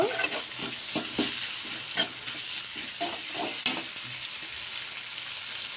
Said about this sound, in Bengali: তো এর মধ্যে আমি রসুন কুচি আর দিয়ে নেব লঙ্কা কুচি। তো ভালো করে ভেজে নেব।